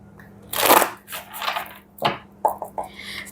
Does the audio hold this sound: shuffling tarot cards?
yes